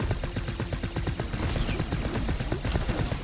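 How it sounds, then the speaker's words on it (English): Rapid machine gun fire in The Knight Witch, a dense, steady stream of repeated shots running without a break over a busy game soundscape, fairly loud throughout. "Machine gun."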